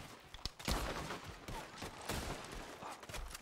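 Gunfire in Red Dead Redemption 2 during a fight against men approaching through fields, a quiet, rapid fusillade of overlapping shots with sharp cracks and booms spread across the clip.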